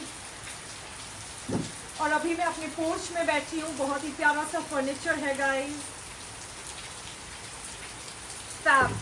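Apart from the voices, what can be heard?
rain falling on porch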